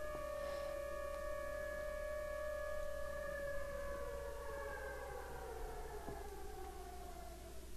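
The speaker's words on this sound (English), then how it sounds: "Oh, now the sirens start up again." Tornado sirens in the Minecraft video game wailing faintly and steadily, their long sustained tones slowly falling in pitch, with no talk over them.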